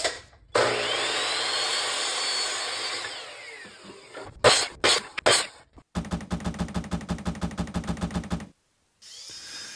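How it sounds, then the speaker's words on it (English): A power drill pre-drills holes in wooden sauna wall frames: a long whirring run, several short bursts, then a rapid pulsing stretch, all close and loud. "I'm just pre-drilling so I don't split the wood out"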